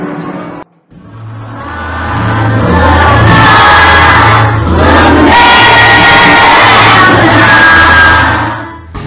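A classroom of students stands and sings the Indonesian national song Maju Tak Gentar together, a loud, sustained mass of young voices filling nearly the whole stretch after a brief quiet start.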